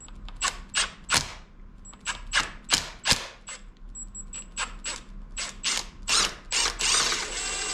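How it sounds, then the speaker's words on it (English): A power drill works on a part of a 2001 Miata six-speed transmission during a rebuild, sounding in a quick series of sharp ratcheting whirs and bursts, close and fairly loud, with a brief steadier run at the end. "Oh, maybe I just use the drill on this."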